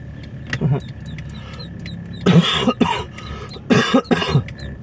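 Two loud, harsh coughing bursts close by, each a short cluster of coughs, separated by quieter background with a faint engine hum.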